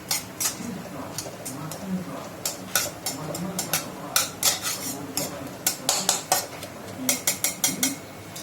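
A spoon scraping and clinking against a kadai as dal is gently stirred over a low gas flame, with irregular metallic taps and scrapes close by and a faint voice underneath.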